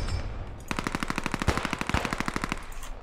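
Machine gun fire in the WWII shooter Post Scriptum rips out as a rapid, evenly spaced burst of close, loud shots lasting a couple of seconds, with no voices.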